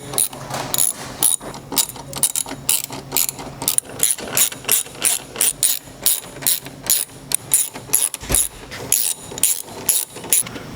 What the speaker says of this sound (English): you're going to want to put your 8 millimeter screws back in